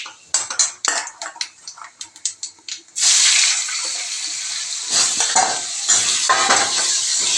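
Ridge gourd slides into a hot pan with dry red chilli and five-spice seeds. A run of sharp metallic clinks and scrapes gives way to a sudden loud, sustained sizzle that keeps crackling to the end.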